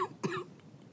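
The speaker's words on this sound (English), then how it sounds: "there was sniffling, there was coughing." A single short cough, faint and close, with a brief rough burst followed by quieter throat noise.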